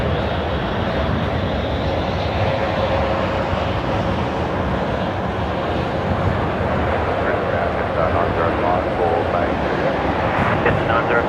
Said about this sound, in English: 392, runway 19 right, clear for takeoff